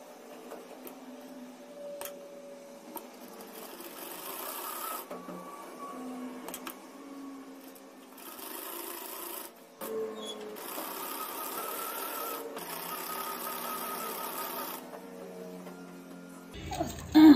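A sewing machine stitches pressed fabric on a lehenga-style dress, running close by in a steady whirring, ticking rhythm that carries on with brief pauses and slight changes in speed.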